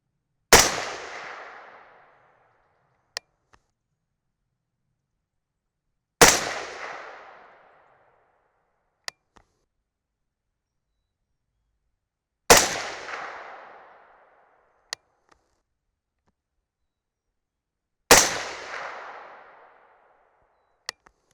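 Four suppressed AR-10 rifle shots firing 168 grain AMAX rounds, evenly spaced about six seconds apart, each a sharp crack followed by a decaying echo, with faint metallic clicks between shots.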